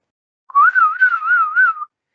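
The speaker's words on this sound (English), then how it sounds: "it'll detect that it's whistling" A person whistles a single sustained, wavering tone for just over a second, clear and close with no background noise.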